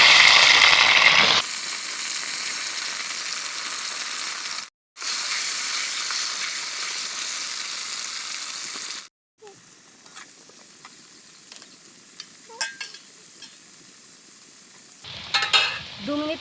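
Potatoes and taro pieces frying in a pan, a loud steady sizzle with stirring scrapes, broken by brief gaps, then quieter clinks and crackles near the end.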